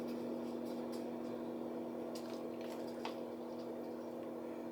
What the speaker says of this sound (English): I got the other one in the microwave. You can probably hear it.